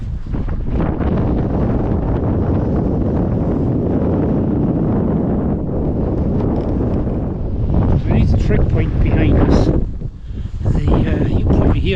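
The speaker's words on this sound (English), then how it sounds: "The wind's getting up, and there's quite an icy wind chill." Strong icy wind buffeting the microphone outdoors, a loud continuous roar with gusts throughout.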